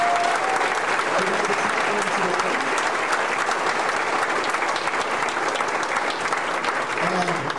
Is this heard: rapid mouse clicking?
no